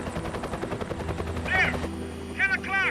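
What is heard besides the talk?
helicopter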